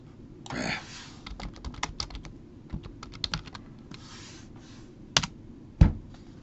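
Someone typing on a computer keyboard to search the web, irregular bursts of close key clicks with short pauses and a couple of sharper taps near the end, no talking.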